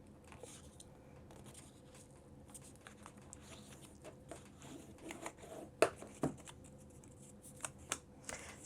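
Cardstock paper being folded in half for a mini album, with quiet close rustling and soft crisp creasing taps, a few sharper snaps toward the end.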